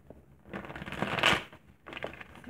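Tarot cards are shuffled close by, quietly: a soft riffling burst rises to a brief peak and fades, then a second shorter round of shuffling follows.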